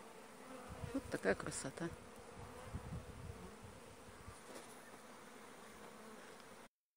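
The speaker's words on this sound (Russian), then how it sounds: "И со второй стороны также забита пчелами." Dense swarm of honey bees buzzing steadily while being handled during swarming in Siberia, a close, continuous drone with a few louder passes near the start; someone speaks briefly over it.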